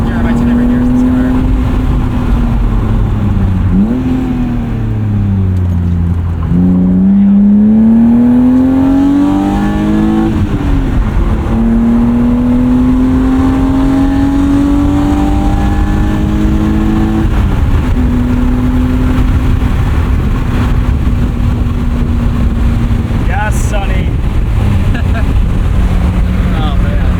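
A 1998 BMW M3 E36 with 250,000 miles revs hard through the gears, engine pitch climbing and dropping with each shift, loud and close from inside the car, with a voice talking over it.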